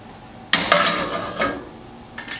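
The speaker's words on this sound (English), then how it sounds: "Give it a stir." Clams in a pot with wine being stirred, with a sudden clattering rattle of shells and a scrape of the utensil against the metal, fading, then a brief second rattle.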